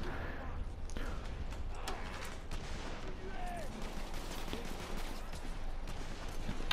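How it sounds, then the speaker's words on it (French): Scattered gunfire and sharp cracks from a firefight in The Order: 1886, steady and mid-distance, with voices talking over the shooting throughout. "Il y a une fusillade."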